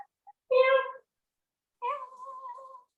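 A person imitates a cat's meow twice, a short bright mew followed after a pause by a longer drawn-out meow, delivered close and clear during a Pilates class with bands, with quiet surroundings.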